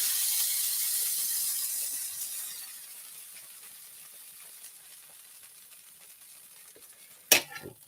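Chicken fricassee coming back to a boil in a pot on a cookstove, a soft steady bubbling hiss that fades over several seconds before a brief sharp clatter near the end.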